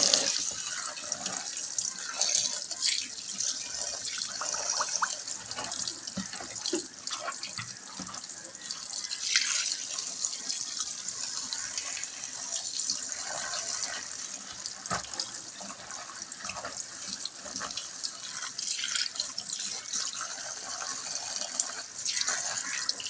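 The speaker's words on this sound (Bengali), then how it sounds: "আর এটাকে আমি জল দিয়ে একটু ধুয়ে নেব।" Running tap water pours steadily while something is rinsed and washed in a basket, a continuous splashing hiss with occasional drips and shifting flow lasting the whole stretch.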